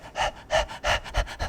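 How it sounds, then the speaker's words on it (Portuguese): A dog pants in quick, close breaths, five or six rhythmic huffs in a short burst with no other sound around them. "No final ali coloquei o som até da respiração do cachorro."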